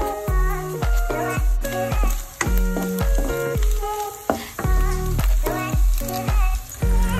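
Beef, smoked beef and garlic sizzle and fry in a pan, with a steady hiss of frying broken by repeated metallic scrapes and clinks of stirring, no talking.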